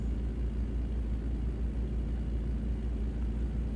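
A truck engine in American Truck Simulator rumbles low and steady at a constant cruising drone, with no voices.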